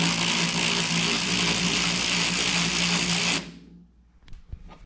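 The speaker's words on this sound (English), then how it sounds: "Already have the nut off, we're just gonna pull that pulley off." A three-jaw puller working a pulley off a riding lawn mower deck spindle makes a dense, close mechanical whirring drone that cuts off abruptly, followed by a couple of faint knocks and handling sounds.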